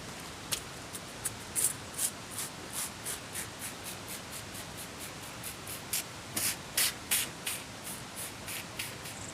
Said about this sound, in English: But let's get spraying.